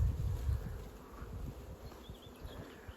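Honey bees buzz around a hive in an outdoor apiary, a faint, steady insect hum with light rustling and a soft low thump near the start.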